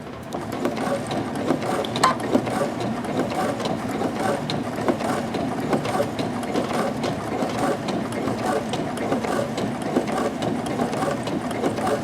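A Baby Lock sewing machine with a roller foot stitches leather, its needle running in a fast, steady mechanical chatter at close range for a sustained stretch, with no talking over it.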